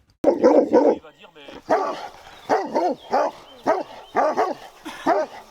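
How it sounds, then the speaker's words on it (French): Large livestock guardian dogs bark repeatedly in deep, rhythmic bursts, fairly close, with some whining between barks. "des chiens, massifs et bruyants, qui viennent les renifler en leur aboyant dessus"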